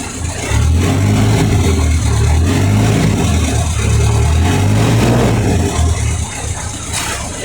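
An engine fires up for the first time and runs with a loud, rough, low rumble that rises slightly as the throttle is opened, holding steady close by before easing off at the end.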